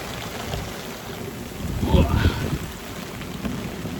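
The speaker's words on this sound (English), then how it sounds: "now have really high winds and really heavy rains" Heavy rain and high winds of a gale at sea, a dense, continuous roar of wind and spray that swells briefly in the middle.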